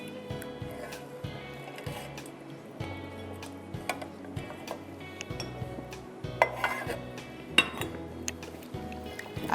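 A mixture stirred continuously in a cooking pot, with a spoon scraping and clinking against the pot in a steady, irregular rhythm, close and moderately quiet, with soft background kitchen noise.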